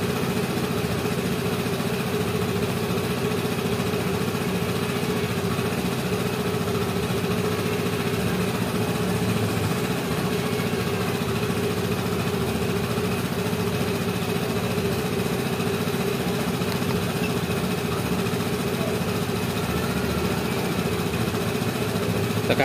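A Vespa scooter engine idles steadily close by, a constant even hum with no speech over it throughout.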